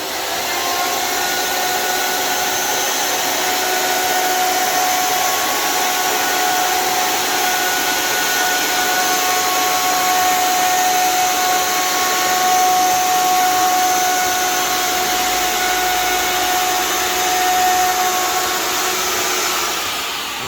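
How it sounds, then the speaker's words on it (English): A wood router with a small radius bit rounds the front edge of a board in a beach house pantry build: a loud, steady high-pitched whine and airy roar held unbroken for about twenty seconds, no talking. "I put a little radius bit in that router"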